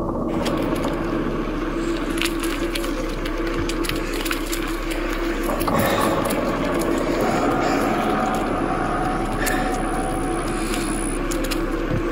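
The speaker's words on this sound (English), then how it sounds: "Driving into the brush." A vehicle pushes through brush on a dark, wet, swampy trail in George Bush Park, its engine a steady low drone under rustling and scraping, with a brief louder thump partway through.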